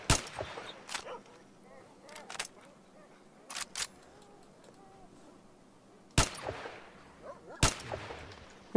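Mutant dogs in the game S.T.A.L.K.E.R.: Shadow of Chernobyl let out scattered yelps and whines amid several sharp, loud gunshots, with quiet stretches between the bursts.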